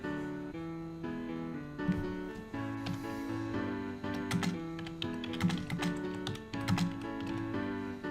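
Keystrokes on a computer keyboard while a note is entered into a software data log, tapping in quick irregular runs over soft steady background music, with no voice.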